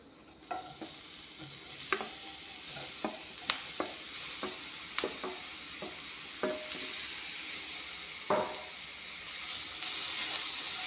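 Bitter gourd and potatoes frying in a pan, a constant hissing sizzle broken by a dozen sharp spatula scrapes and taps at an irregular pace, close and with no voices.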